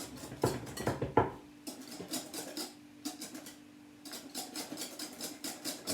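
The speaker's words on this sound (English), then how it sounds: "I'm gonna whisk this into it now" A whisk clatters against a bowl while coconut ice cream mixture is beaten, giving quick, close metallic clinks and scrapes in irregular bursts with short pauses between them.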